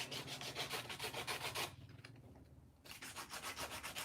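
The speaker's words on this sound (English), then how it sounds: "Just sanding the edges down so I don't cut the actual part." Steady rhythmic sanding strokes scrape back and forth along the edges of a plastic toy part, pause briefly, then resume at the same quick pace.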